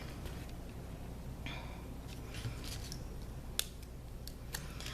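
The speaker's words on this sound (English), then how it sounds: "I'm going to cut them out with scissors" Quiet, crisp snips of scissors through card, a few sharp cuts spaced irregularly over a soft background hiss, no talking.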